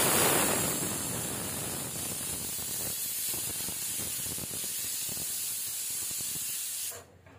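A pressure cooker whistle releasing steam while cooking jeera rice, a loud steady hissing spray for about seven seconds that cuts off abruptly at the end.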